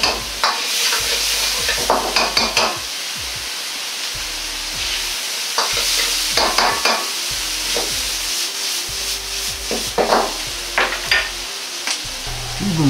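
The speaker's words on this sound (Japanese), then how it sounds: "あとはスープと調味料がたけのこに染み込むように煮詰めていきます" Bamboo shoots simmer down in soup and seasonings, bubbling and hissing close by, while a utensil repeatedly stirs and scrapes the pan in uneven bursts. No one talks.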